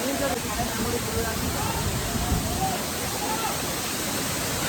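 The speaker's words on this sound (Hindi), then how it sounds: "यहाँ पे एक वाटरफॉल है छोटा सा।" A small waterfall beside the road to Kedarnath gives a steady, broadband rushing roar of falling water, close and constant throughout, with a faint voice underneath.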